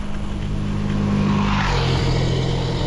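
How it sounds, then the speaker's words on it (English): Cars passing in both directions on a busy early-morning road near Cuneo, a loud, close whoosh of a vehicle rushing by, its engine drone sliding lower in pitch as it passes and recedes. "There are cars going both directions"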